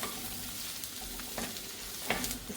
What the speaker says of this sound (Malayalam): ഇത് നന്നായിട്ട് വഴറ്റെടുക്കുക